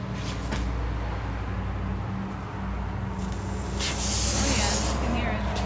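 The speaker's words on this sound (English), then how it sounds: "If you hear air coming out, you know that it's a leak." Steady broadband air hiss leaking from a punctured car tire with a screw in it, continuous and close, rising slightly toward the end with a faint low hum underneath.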